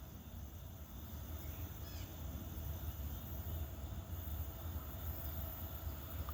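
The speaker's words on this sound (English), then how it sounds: "Looks like a coal train." A BNSF coal train rounds a corner near Abbeville, South Carolina, giving a steady, loud low rumble and rolling rail noise that holds throughout with no voices.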